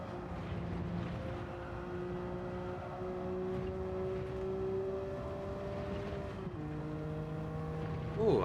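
Engine drone of a rental car lapping a track in Gran Turismo 7 during a licence test, a steady tonal whine holding pitch then dropping with a gear change near the end, continuous and fairly close.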